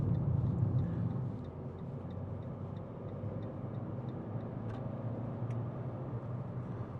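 Inside a 2017 Fiat 500 1.2 Lounge three-door cruising at 70 mph, a low, steady cabin drone of engine and road noise hums quietly and evenly, with no one talking.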